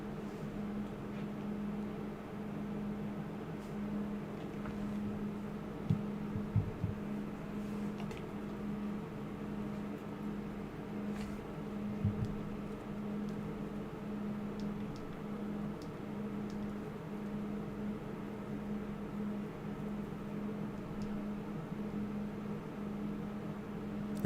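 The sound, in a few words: loud computer fan noise in the background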